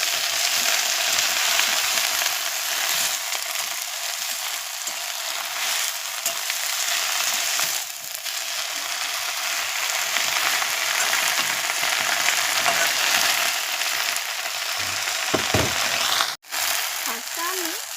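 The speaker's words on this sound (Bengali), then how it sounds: "এবারে আমি শাকগুলো এতে ঢেলে দেব" Jute greens fry in hot oil with a steady broad sizzle that holds the whole way through, with brief stirring scrapes near the end.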